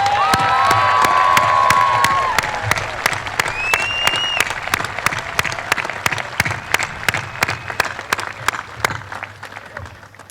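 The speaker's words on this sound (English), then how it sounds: "Please join me in an extra round of applause for Hunter" A high school graduation crowd claps and cheers for a graduate headed into the Coast Guard. Loud sustained applause with whoops and shouts rises first, then thins into scattered, sharp individual claps as the cheering fades.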